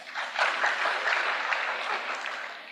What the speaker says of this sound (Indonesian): Tepuk tangan untuk USK.